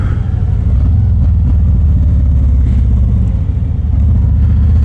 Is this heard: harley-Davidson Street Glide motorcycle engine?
yes